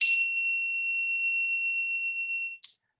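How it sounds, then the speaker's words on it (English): A small chime strikes once and rings out as a single clear sustained tone for over two seconds, ending with a faint tap. "I've got this little chime here. So when you hear this sound,"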